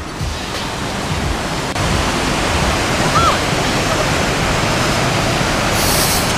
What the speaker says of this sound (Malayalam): പാറ ലീക്കായിട്ട് വെള്ളം ചാടുന്നതായിരുന്നു അല്ലേ